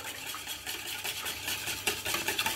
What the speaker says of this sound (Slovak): Pekne si to takto rozmiešame